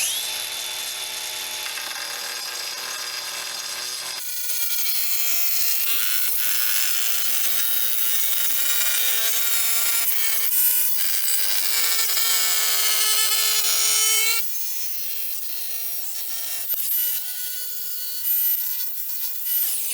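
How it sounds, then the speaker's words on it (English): Montolit diamond wheel ripping through a porcelain tile plank, giving a sustained high scraping grind with shifting tones and several short breaks in the cut. "Now let's quickly rip this porcelain plank as well as scribe it."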